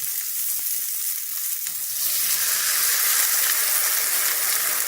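Adzuki beans and lentils drop into a hot frying pan of browned ingredients, and a quiet hiss swells into a loud, steady sizzle close to the pan.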